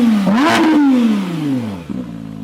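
A Porsche GT3 RS flat-six, cold and in neutral, revs up sharply once, holds briefly, then winds down in a long falling whine before settling to a rough idle, loud and close.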